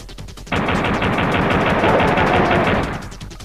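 Pistol fire from Duke Nukem 64 rattles out in a rapid, loud burst of shots for about two and a half seconds, then cuts off, with no voices.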